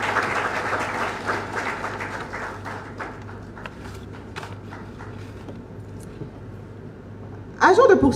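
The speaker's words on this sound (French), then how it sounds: "Je vous demanderai donc, mesdames et messieurs, d'applaudir très fort toutes les femmes des impôts du Mali" An audience at a conference applauds the women tax workers of Mali, with sustained clapping that fades gradually to scattered claps, before a voice comes in at the end.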